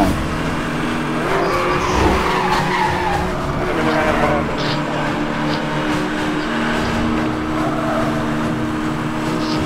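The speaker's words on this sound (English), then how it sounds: "This guy's actually using the handbrake to go around the corners" In Need for Speed Hot Pursuit, a car skids around corners with the handbrake, sending up loud, continuous tire squeals over a roaring race engine.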